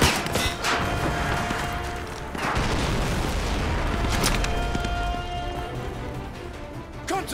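RPG blasts and gunfire from Call of Duty: Modern Warfare 2 Remastered fill a dense, loud battle din, with heavy booms and crackling shots layered over continuous rumbling noise.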